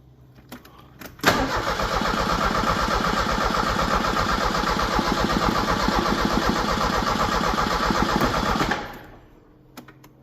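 A Ford Ranger donor engine cranks over on the starter without firing, a loud rapid rhythmic chugging that runs steadily for about seven seconds and then stops, with no voices.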